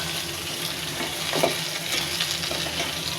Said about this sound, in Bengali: পেঁয়াজ পাতা মশলা জিরার ফোড়নে সুন্দর করে শিমগুলো ভেজে নিলাম।